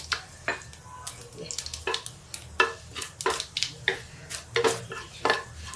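Cumin and asafoetida crackle and sizzle in hot oil, with sharp popping bursts and a spoon stirring against the pan close by.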